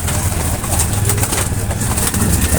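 Racing pigeons in a loft coo softly and steadily as a bird returns from a race lap, low repeated coos under a constant background hiss, with faint murmurs of nearby voices.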